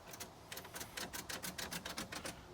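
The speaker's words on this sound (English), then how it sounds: "Like if I click the key" Rapid, evenly spaced clicks come from the ignition key of a 90s Jeep being worked over and over, about a dozen sharp ticks with no fuel pump hum behind them.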